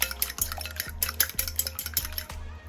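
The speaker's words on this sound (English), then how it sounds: "This is Red Hot. And you just whisk this together." A whisk beating egg batter mixed with Red Hot hot sauce in a bowl, rapid rhythmic clinks and scrapes against the sides repeating at a steady brisk pace, close and clear, then stopping.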